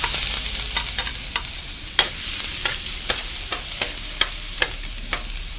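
Garlic and onion sautéing in oil in a pan for a classic-style menudo: a loud, continuous close-up sizzle with scattered sharp crackles and spatters throughout, no talking.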